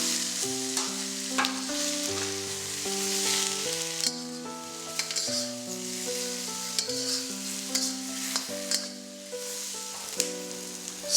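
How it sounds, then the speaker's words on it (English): Prawns stir-fried in a hot pan with chili give a steady sizzle with stirring scrapes, close up, running under continuous background music. "Stir fry the prawns for 1 to 2 minutes till the prawns are about half cooked and turning pink."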